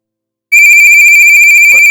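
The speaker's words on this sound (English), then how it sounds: "The house phone rings, Gabriel." A house phone rings loudly and close, a piercing electronic warble that starts suddenly after a half-second of silence and continues steadily, with a brief voice cutting in near the end.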